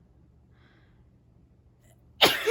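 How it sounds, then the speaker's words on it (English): One sudden, sharp human sneeze bursts out loudly near the end after a stretch of near silence. "I'm going to fucking sneeze"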